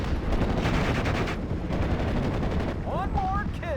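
Sustained heavy gunfire from a World War II battle in the Normandy strategy game Steel Division Normandy 44, dense overlapping shots and bursts filling the whole stretch, with whistling tones near the end.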